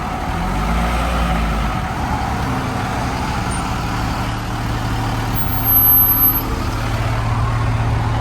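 A rally-prep truck rolls forward onto a weigh scale, its engine idling and rumbling close by in a steady low drone that swells briefly near the end.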